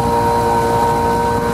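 Steady, close engine drone of a sailboat motoring under power with its sails slack in windless conditions on the North Sea, a constant even hum with no voices.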